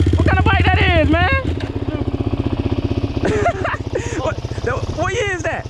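A 2001 Honda TRX400EX quad bike engine, loud and close at first, then running with a pulsing beat and revving in bursts while people talk over it.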